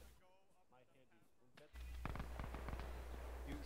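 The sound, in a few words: distant gunfire in a World War II combat video game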